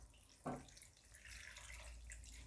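Water is poured from the tap into a pot of cleaned, trimmed spinach being readied for boiling, a soft splashing burst at first that settles into a steady, close running-water hiss.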